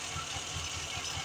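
A fuel-injected 106 car engine idles roughly with an unstable, fluctuating rpm, giving a low, rhythmic chugging pulse about every fifth of a second over a steady mechanical hum, heard close and alone.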